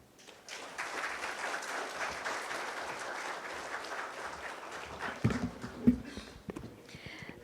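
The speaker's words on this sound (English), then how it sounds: "Can we have a louder round of applause for this very endearing thoughts and those address?" Audience applause fills a conference hall after an inaugural keynote at an HR conclave, a steady broadband clatter of many hands that builds quickly, holds, then thins into scattered claps and a few louder knocks near the end.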